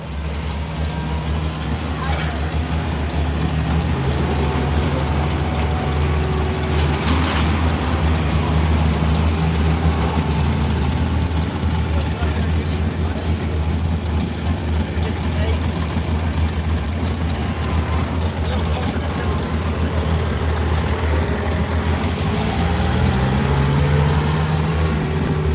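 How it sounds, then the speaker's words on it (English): A pulling tractor at a truck and tractor pull event runs continuously with a deep, heavy engine drone, steady and loud, under an announcer's voice and crowd noise. "Driving Derek Brinkley's tractor."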